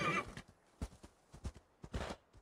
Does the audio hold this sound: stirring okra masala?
no